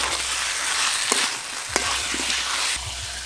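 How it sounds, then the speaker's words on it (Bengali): Potatoes sauté with spices for alur dom, a dense steady sizzle broken by a couple of distinct spatula knocks and scrapes. "আরেকটু ভালো করে কষবো।"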